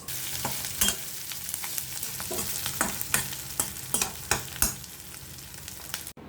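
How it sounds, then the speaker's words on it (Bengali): Curry stirred in a pan on the stove: a spoon scrapes in a run of distinct strokes over a steady broadband sizzle, close and clear, with no voices. "আর এদিকে আমি তরকারিটা নেড়ে ছেড়ে রেখে দিচ্ছি"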